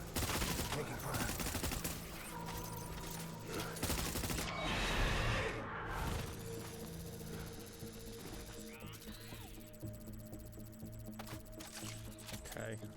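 Gunfire rattles through a firefight in the video game Death Stranding, with dense bursts of shots mixed with game sounds and a voice talking over them.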